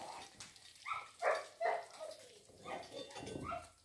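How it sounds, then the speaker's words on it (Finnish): A dog barks and yips now and then nearby in the surroundings of a hut, with short uneven calls and faint whimpers at moderate loudness. "Se koira haukkuu tuolla aina välillä"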